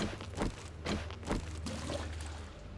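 Water in the 7 Days to Die video game, a faint trickling, pouring flow with a few soft splashy surges every half second or so, no voices.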